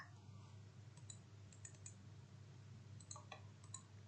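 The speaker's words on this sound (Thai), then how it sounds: "เอาเมาส์มาดับเบิลคลิกค่ะ" A computer mouse is double-clicked several times while a document is edited, making faint, crisp paired clicks scattered over a steady low hum.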